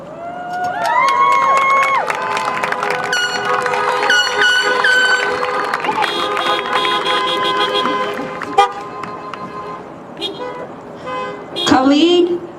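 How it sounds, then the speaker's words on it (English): Car horns toot repeatedly in overlapping blasts of varied pitch while a crowd cheers, saluting a graduating high school class of 2020 at Heritage Academy Laveen; a loud, sustained chorus with a sharp burst near the end. "I think we have plenty of time to honk our horns and really acknowledge their accomplishments"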